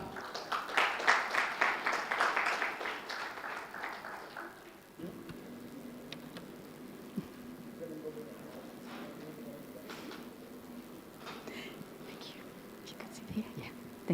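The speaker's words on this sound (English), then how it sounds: "Applaudissements également pour Monsieur Bamba." A conference audience at an African debt and development event applauds Mr Bamba, a dense burst of clapping for about four seconds that then fades into quiet room murmur.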